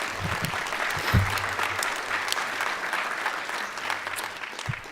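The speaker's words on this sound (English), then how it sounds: "So let's give Katie a round of applause." An audience at a school board meeting gives a student athlete a round of applause, a lively spread of clapping hands that holds steady and fairly close, with a few sharper claps standing out.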